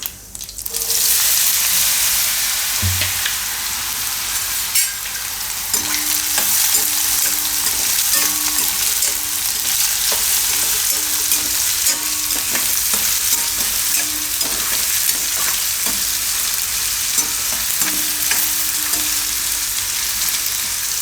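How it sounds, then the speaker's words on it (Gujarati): Ridge gourd pieces tipped into hot oil already crackling with mustard seeds and cumin sizzle loudly and keep frying in a steady hiss, with a spoon clattering and stirring at intervals throughout. "હવે આપણે એમાં નાખી દઉં આ ગલકા।"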